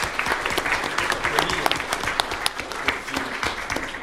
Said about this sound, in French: Je vous propose qu'on applaudisse nos intervenants.